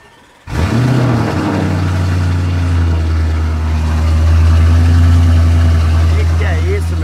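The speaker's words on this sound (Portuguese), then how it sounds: "vamos ligar aqui o carro aqui, ó. Olha esse barulho" A Lamborghini Urus engine fires up after a short silence, settling into a loud, steady idle with a deep rumble that swells slightly as the revs rise, heard up close alongside occasional voices.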